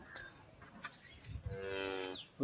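A dairy cow on a farm in Palakkad gives one drawn-out, fairly close moo near the end, after a few seconds of shuffling and soft background farm noise.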